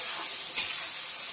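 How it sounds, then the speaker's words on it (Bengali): Chopped onions, two large ones, frying in a pan for a chicken dish, a steady soft sizzling hiss with a brief louder crackle partway through, close and alone. "পেঁয়াজ কুচি দিয়ে একটু লাল লাল করে ব্রাউন কালার হলে"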